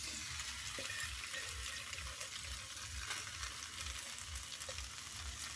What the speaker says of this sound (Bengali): এবার পাস্তাটা দিয়ে নাড়বো।